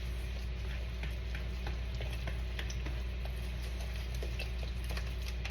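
Buttermilk cornbread batter being stirred in a bowl, faint scraping and light ticking of the utensil repeating steadily beneath a constant low hum.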